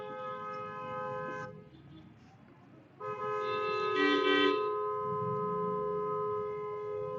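A car horn sounds in long sustained blasts at a red light, a steady tonal honk that cuts off briefly and then resumes louder over faint background noise.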